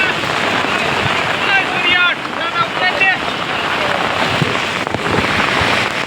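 Heavy floodwater rushing over the Rajsthali bridge after intense rain, a loud, steady broadband roar filling the whole scene, with someone talking over it.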